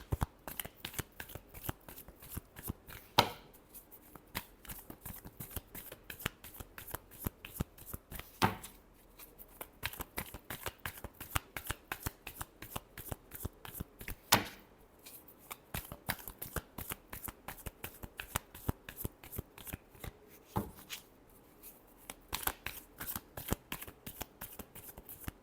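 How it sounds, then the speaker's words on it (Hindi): Tarot cards shuffled by hand in a steady run of soft, rapid riffling flutters, with a few louder slaps and taps every few seconds, close and clear with no talking. "Last shuffle."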